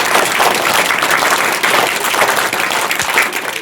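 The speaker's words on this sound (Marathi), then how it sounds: "सर्व विद्यार्थ्यांनी एकदा जोरदार टाळ्या वाजवून" Students at a school event honouring journalists break into loud, sustained applause, dense clapping filling the room without pause.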